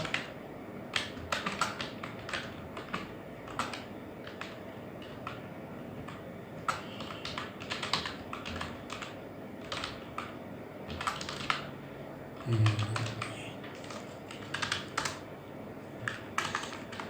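Typing on a computer keyboard while writing code for a text completion model, with bursts of rapid key clicks separated by short pauses, close and clear with no talking.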